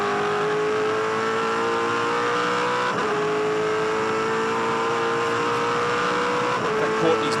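A V8 Supercar engine drones steadily at close range as the car peels off into the pit lane for its compulsory stop in a 2006 Perth race, the pitch shifting gently under a loud mechanical roar.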